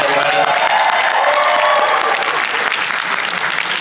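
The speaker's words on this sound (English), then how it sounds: "Give her a round of applause, everybody." Loud, dense applause from an audience at an Anime Los Angeles convention event, honouring an AMV award winner, with some cheering mixed in, steady and full throughout.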